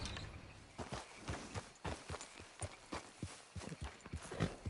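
A horse's hooves clip-clop at a steady walking pace in Red Dead Redemption 2, making a regular string of soft, fairly faint thuds.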